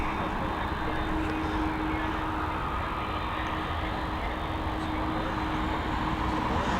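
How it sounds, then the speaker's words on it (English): An American Airlines airliner taxiing at Dublin Airport, a steady broad engine rumble and whine, continuous and fairly loud, heard from a distance with no talk over it. "Let's have a look at this American as she taxis on by."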